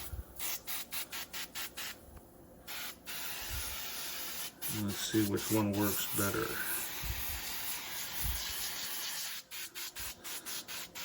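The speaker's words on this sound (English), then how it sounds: "we're gonna take just the 409 and we're gonna spray that" A spray bottle of 409 cleaner is squirted onto an oven in a short run of rapid trigger pumps, close and moderately loud, with brief hissy bursts and rubbing and a person talking around them.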